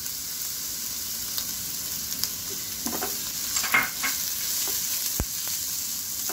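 Shredded cabbage tipped into a moong dal chilla batter, giving soft stirring and mixing scrapes with faint sizzling in the background, a few short clinks and taps along the way, close by and with no voices.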